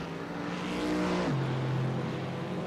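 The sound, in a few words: Aston Martin safety car engine driving off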